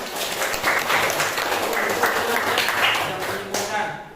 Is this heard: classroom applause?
yes